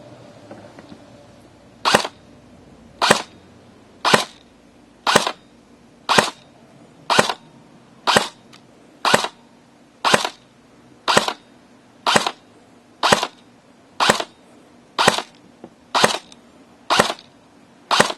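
A Classic Army XM177E2 airsoft rifle fires Javelin .20 gram BBs in single shots, about sixteen sharp, evenly spaced snaps roughly a second apart, close and distinct over faint background noise.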